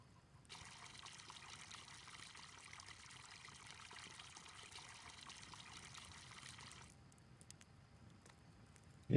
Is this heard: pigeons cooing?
no